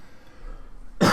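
A single loud, abrupt cough bursts out at the very end after near-silence, from a player during a no-limit hold'em poker stream.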